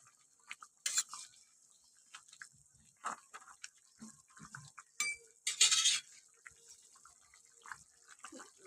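A spoon scrapes and clinks against a pot while fried lentil dumplings are stirred into cauliflower curry, sparse close metallic knocks and scrapes with brief wet stirring sounds and quiet gaps between.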